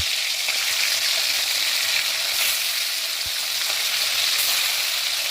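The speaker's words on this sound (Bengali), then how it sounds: "তেলটা আমার গরম হয়ে গেছে, এবার মাছগুলো আমি ভেজে নেব।" Fish sizzling steadily in hot oil in a wok, a loud, continuous frying hiss with faint crackles and occasional light clinks, close up and with no voices.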